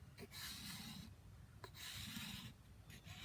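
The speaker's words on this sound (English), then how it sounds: "Just sit on the bow and start scraping it." A scraper drawn over a green wood bow stave that has hardened overnight, making steady, continuous close rasping strokes with brief pauses between passes.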